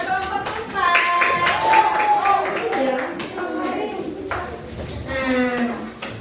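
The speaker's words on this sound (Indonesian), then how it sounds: "tepuk tangan buat kelompok 4" Classroom students clap for a group after an Islamic religious education lesson. Scattered, uneven hand claps run throughout, with children's voices and cheering laced through them.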